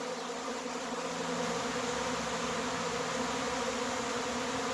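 Dense, continuous buzzing of a honeybee swarm moving through the air, a steady droning hum from many insects with no voices.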